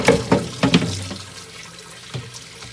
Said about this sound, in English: I just use soap and water when I clean them.